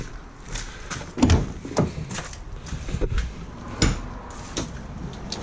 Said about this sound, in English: Let's quickly open the back doors actually.